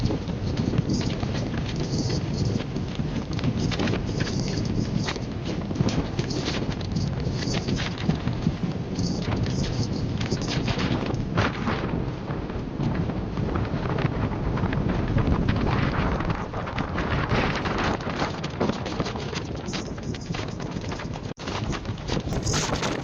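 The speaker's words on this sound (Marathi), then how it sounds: "रेल्वे ही अशा सकाळच्या मस्त वातावरणात चालत होती" An Indian railway train running along a morning route to Parbhani, heard from an open carriage door: a steady, loud roar of wheels and rushing wind with faint rhythmic clatter underneath, and no talking.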